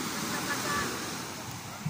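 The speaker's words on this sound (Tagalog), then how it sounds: "Umakyat yung alon." Ocean waves wash onto a white sand beach in a steady, broad roar of surf that holds at an even level throughout, with faint voices mixed in.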